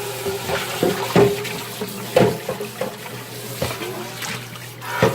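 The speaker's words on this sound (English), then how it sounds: "now I'm getting this water in here so that way I can boil my noodles" Water runs and splashes into a cooking pot with uneven gurgles and sharp drips, close by and fairly loud.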